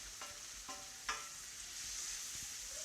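Chopped tomatoes are stirred in a hot frying pan for veg chow mein, with a few close scraping strokes of a utensil over a steady sizzle of frying.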